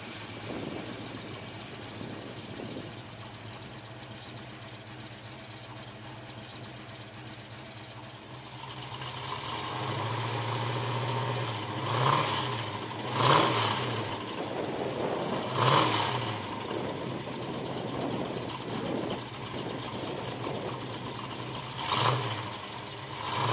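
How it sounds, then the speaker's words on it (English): A 1968 Plymouth Barracuda Formula S engine starts and settles into a low, steady rumble through cast iron exhaust manifolds and dual exhaust, with several brief revs rising above the idle, heard alone and fairly close. "The car starts easily and sounds great through cast iron exhaust manifolds and an OEM style dual"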